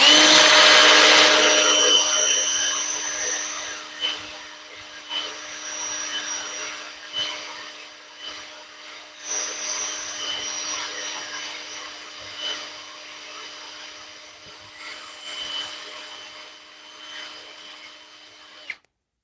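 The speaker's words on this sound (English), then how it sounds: "it's drilling and trying to get through it" A drill grinds through glued wood, its tone slowly fading and dipping as the bit labors in the joint, ending with a sharp click.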